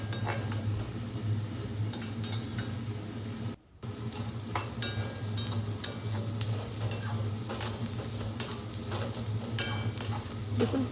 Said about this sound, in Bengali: দেখুন পেঁয়াজগুলো আমার প্রায় ভাজা হয়ে আসছে।